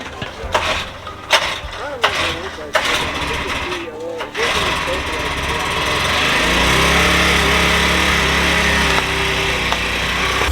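A small Honda pump engine at a maple sugar shack is pulled a few times in sharp bursts, then catches and settles into a steady, close, buzzing run; talking is heard early on.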